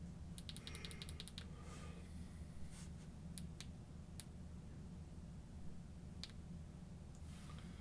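Button clicks from a Sofirn SC31 Pro flashlight, a quick cluster of sharp, faint clicks near the start followed by a few scattered single clicks over a steady low background hum.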